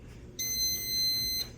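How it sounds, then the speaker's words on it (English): A kitchen appliance gives one steady electronic beep tone after being plugged in, lasting about a second against quiet room hum, with no talking. "you're gonna hear it beep"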